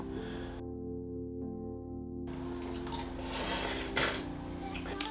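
A spatula scrapes high-protein Oreo McFlurry-style ice cream off the edges of its container, giving soft clattering scrapes and a few sharper knocks near the end. No one speaks.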